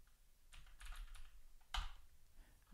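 Quiet clattering of keys on a computer keyboard as a terminal command is entered in Ubuntu, a short irregular burst of keystrokes ending in a firmer press.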